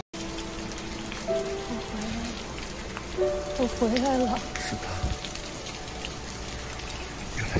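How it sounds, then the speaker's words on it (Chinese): Steady rain falls outside near a stopped car, a constant hiss of drops on surfaces running the whole time, with voices talking and a brief strained cry partway through. "下雨不知道打伞吗？"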